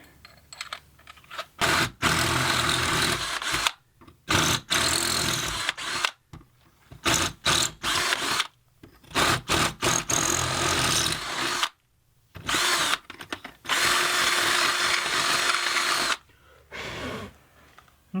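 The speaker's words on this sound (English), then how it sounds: "I'm going to swap over to a larger masonry bit here." A power drill boring a hole with a larger masonry bit in a workshop under construction, loud close grinding bursts that start and stop repeatedly across the clip, with brief silent gaps between runs.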